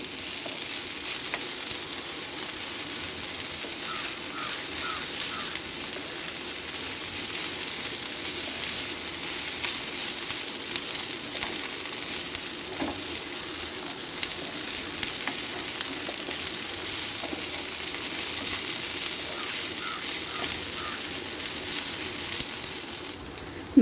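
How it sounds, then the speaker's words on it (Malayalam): Shallots and onion sautéing with ginger garlic paste for a beef roast, a steady close sizzle and crackle of frying with occasional stirring scrapes, continuous and even with no talking. "ഇതിലേക്ക് ഒരു ടേബിൾ സ്പൂൺ ഇഞ്ചി വെളുത്തുള്ളി പേസ്റ്റും കൂടി ചേർത്ത് നന്നായിട്ടൊന്ന് വഴറ്റിയെടുക്കാം"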